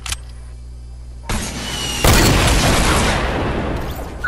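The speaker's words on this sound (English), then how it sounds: "An RPG just killed him." A loud, close RPG blast in a multiplayer shooter game erupts as a sudden broadband boom after a brief click, then rumbles and hisses on for a couple of seconds.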